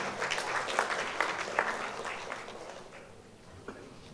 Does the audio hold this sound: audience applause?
yes